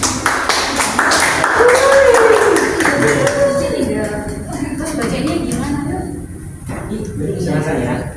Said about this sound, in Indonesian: beri tepuk tangan dulu buat kelompok 1